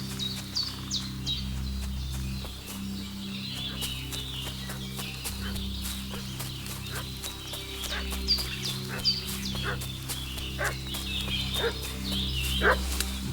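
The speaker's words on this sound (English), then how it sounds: "What's that dog making such a fuss about?" A dog barks repeatedly in the medieval village setting of the game Kingdom Come Deliverance 2, sharp yelps recurring through the clip over steady low ambient hum and chirping birds, with no talk.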